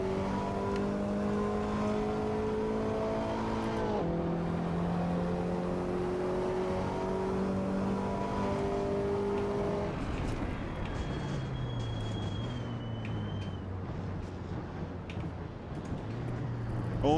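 A racing car engine in the Assetto Corsa EVO video game drones steadily, its pitch holding then dropping as it shifts, with a brief whine later; continuous and close, no talking.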